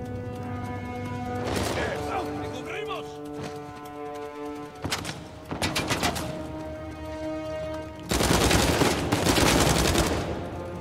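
Gunfire in Uncharted 4 comes in several loud bursts of rapid shots separated by pauses, over a steady layer of game music.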